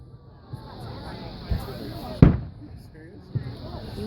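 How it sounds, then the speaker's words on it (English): Fourth of July fireworks in Plymouth, Massachusetts pop and bang at a distance, several scattered reports with one sharp, loud crack, while people chat nearby. "She's afraid of the fireworks."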